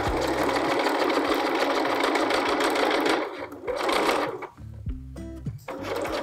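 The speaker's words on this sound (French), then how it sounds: "Je peux maintenant continuer à coudre jusqu'en haut." A domestic sewing machine stitches a skirt seam in a steady, fast whirring run, then pauses and restarts in short bursts near the end, loud and close.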